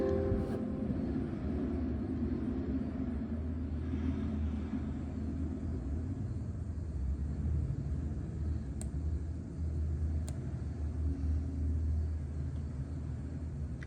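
A car engine newly converted from throttle body injection to multiport fuel injection, fitted with a Holley ECU, idles with a steady low rumble, continuous and fairly close, with a couple of faint clicks and no voices.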